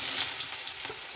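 Mustard seeds fry and crackle in hot oil for a village-style Mandya greens stir-fry, a loud close sizzle with quick popping bursts throughout.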